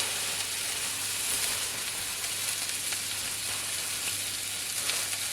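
Burger buns toast on a hot griddle, giving a steady, soft sizzle and crackle that continues evenly without talk.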